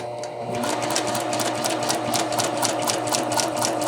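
A sewing machine stitches across a dart on a skirt seam, starting after a brief pause and then running in a steady, rapid, close rhythmic hum with faint speech over it.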